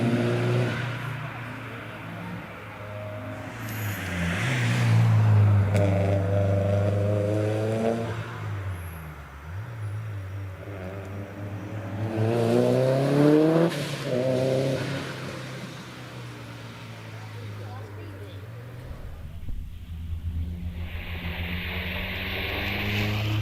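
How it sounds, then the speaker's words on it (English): A Subaru Impreza rally car climbs a hillclimb course, its engine rising and falling through gear changes as it approaches, passes nearby and fades into the distance, with faint talk in the background. "Tom Twemlow is on the hill at the moment in the Subaru Impreza."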